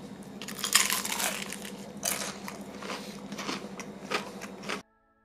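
Crisp, crackly crunching from close bites and chewing into crunchy fried chicken, several sharp crunches in quick succession, then it cuts to silence.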